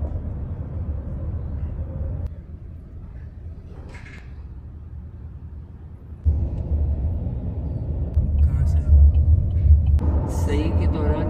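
A car carries passengers toward the Clock Tower during an Umrah trip, a low engine rumble that steps louder partway through, with voices speaking over the drone.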